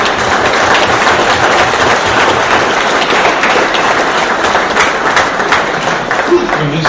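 Loud, dense applause from a large audience filling a conference banquet hall, with steady clapping throughout and voices murmuring underneath.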